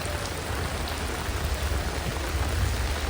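Steady rain falls continuously, a dense even hiss of drops with no pauses and no voices.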